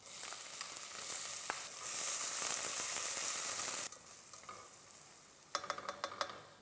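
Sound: mustard seeds, curry leaves and onion frying in oil

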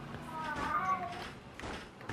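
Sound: pet cat meowing in the room

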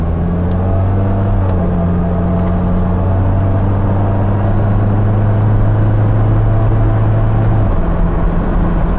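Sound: 1994 Saab 900 Turbo Convertible driving under turbo boost

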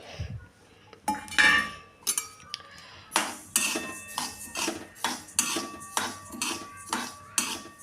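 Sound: flax seeds being roasted in a kadhai on low flame

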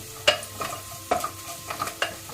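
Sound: onions frying in pan with turmeric being stirred

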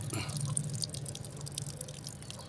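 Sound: water flowing out of a machine during a test after circuit board repair

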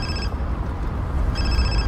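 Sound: phone ringing in a car

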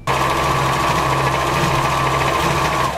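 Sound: sewing machine stitching a straight seam

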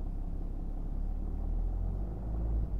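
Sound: Stage 2 BMW car pulling away as driver presses gas

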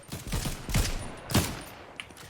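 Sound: gunfire from a video game, shooting from afar

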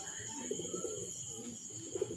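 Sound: domestic pigeon cooing near its coop

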